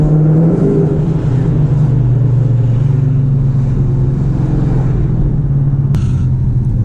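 A Dodge Charger R/T running an E85 tune settles into a steady, loud, close engine idle with a deep, even rumble, its pitch dipping slightly as the revs come down at the start.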